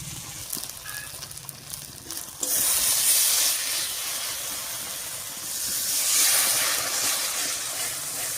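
Turmeric and spice-paste water hit hot spices in a pan for an egg and potato curry, setting off a sudden loud, sustained hiss that swells again near the end after a quieter start.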